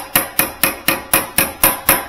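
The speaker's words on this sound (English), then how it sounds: "I'm using a brass tipped hammer here." Eight sharp metallic strikes of a brass-tipped hammer on freezer aluminum, evenly spaced and close, each ringing briefly before the next blow.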